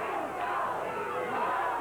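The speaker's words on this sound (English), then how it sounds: "Johnny Smith seems more interested with the crowd who are yelling, "Go, Chris, go."" A wrestling crowd at a Stampede Wrestling event chants and yells together, a loud, rhythmic roar of many voices that swells and falls in pitch throughout.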